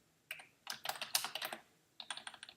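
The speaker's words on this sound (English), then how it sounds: "My very noisy, clunky keyboard, my Apple Mac keyboard is" Clacking keystrokes on a noisy, clunky, old-fashioned generic computer keyboard, heard up close in two quick bursts of typing separated by a short pause.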